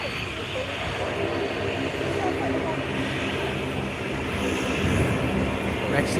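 A Q400 turboprop airliner's engines at an airport, a loud steady drone with a low propeller hum that builds slightly toward the end, with people talking over it.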